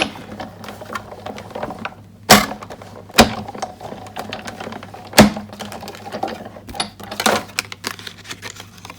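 Cardstock fed through a die-cutting machine for a Christmas card, giving a steady low hum with a few sharp clicks and cracks along the way.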